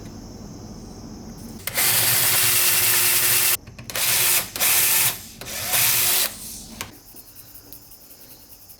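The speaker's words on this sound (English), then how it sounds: "Now let's drill from the other side." Power drill boring a 3/16 inch hole through a homemade carburetor for an engine built from an old compressor: a loud high whine in several bursts with short pauses between, over steady background insect chirping.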